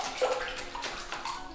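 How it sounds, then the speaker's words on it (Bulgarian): A K&N air filter is patted and sloshed in water filling the bottom of a sink, with soft splashes and gentle slaps, close by and fairly quiet, no speech. "да напълните един съд, в случая дъното на мивката, и с леки потупвания по този начин да изкарате боклуците"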